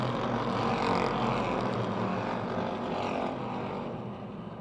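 Race cars at Motordrome Speedway roar in a continuous, dense wall of engine noise, several cars running close together and loud, fading slightly toward the end.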